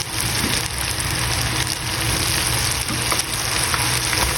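Steady, dense sizzling and crackling of chicken popcorn deep frying in hot oil, a continuous bubbling hiss with no voices.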